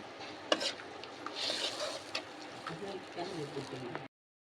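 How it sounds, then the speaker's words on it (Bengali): Mustard and poppy seed paste masala being stirred in a pan for okra and potato curry, giving a soft continuous sizzle with scraping strokes of a spoon and a sharp knock near the start. "এবার ভালোভাবে নেড়ে চেড়ে নেব।"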